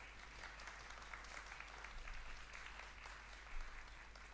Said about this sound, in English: Folks, round of applause for Rory Golden